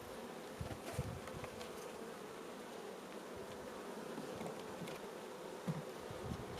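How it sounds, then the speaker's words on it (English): Honeybees buzzing in an open hive as frames packed with nectar are handled, a steady dense insect drone close by with faint handling sounds and no talk. "they are just packing these frames full of stuff"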